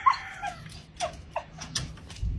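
A dog lets out a string of short whimpers and yelps, thin whining cries rising and falling at moderate distance over a quiet background.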